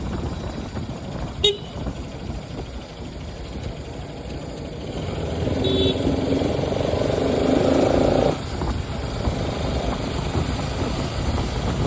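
Four motorbike engines rumble and drone together, a steady broadband roar with a brief horn-like toot early on, the noise swelling louder mid-clip before easing slightly.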